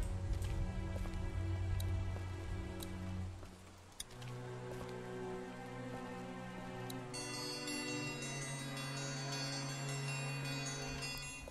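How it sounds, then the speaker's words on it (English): A dinner bell rings in The Walking Dead video game, with bright metallic strikes and chimes repeating over a dense game music and ambience bed that keeps going throughout. "Dinner bell, figures."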